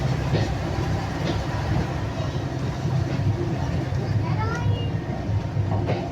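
A railbus pulls up at a level crossing with the gates shut, its engine a low rumble and rolling wheels under traffic-like noise, heard from nearby and fairly loud throughout.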